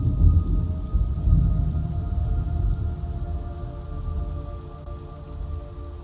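Rain falls during a Metal Gear Solid 3: Snake Eater mission, a steady wash of hiss with a low rumbling bed that gradually eases, alone without voices.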